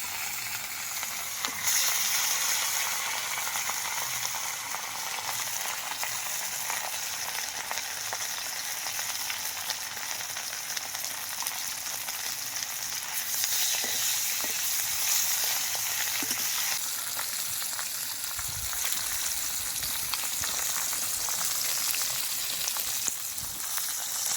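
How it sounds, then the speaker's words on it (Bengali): Katla fish pieces fry in hot oil, giving a loud, continuous close-up sizzle and hiss that runs unbroken, with occasional faint stirring knocks. "তেলটা আমার গরম হয়ে গেছে, মাছটা এবার ভেজে নেব।"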